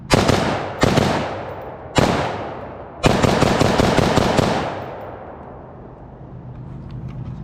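An HK G36 replica gun firing in four loud, close bursts of rapid shots, each cutting off abruptly, the last burst longest before trailing into quieter background noise.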